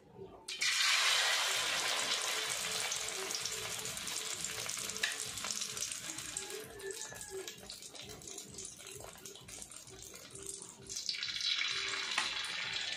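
Eggplant for tortang talong frying in hot oil, a loud, dense sizzle that bursts up as the pieces go in, stays steady, and flares again near the end.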